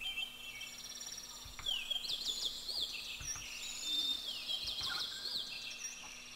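Birds chirp and trill in repeated high sweeping calls over a quiet, steady background hum, fairly soft and continuous.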